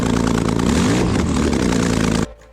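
A rebuilt, formerly water-damaged Porsche 911 GT3 RS engine with Valvetronic exhaust runs with a loud, close, continuous roar, then cuts off abruptly near the end into a faint low residue.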